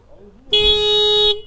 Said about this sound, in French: Le klaxon est normal.